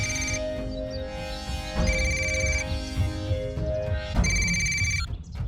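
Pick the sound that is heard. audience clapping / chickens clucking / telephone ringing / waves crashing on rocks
telephone ringing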